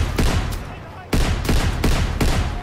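Shotgun fire in the Call of Duty: WWII video game comes as about five loud, sharp blasts, the first two closely spaced and the rest at a steady interval over a rumbling battle background.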